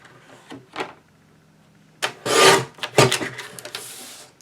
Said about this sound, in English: I am going to cut along this edge as close to that seam as I can get